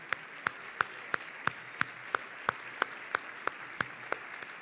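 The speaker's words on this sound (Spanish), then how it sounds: "Os voy a pedir un fuerte aplauso para ellos" A steady, metronome-like run of single sharp claps in a theatre during a sports awards gala at the Teatro Cervantes in Béjar, evenly paced over a quiet room hum.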